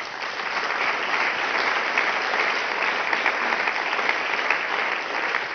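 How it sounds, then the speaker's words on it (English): An audience at an on-court coaching session for singles tactics gives a sustained round of dense, even clapping that holds steady for over five seconds with no talk. "Just a last round of applause."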